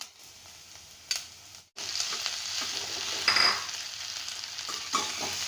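Vegetables are stirred into a pan of browned onions, frying with a steady close sizzle under occasional spoon scrapes and clinks against the pan.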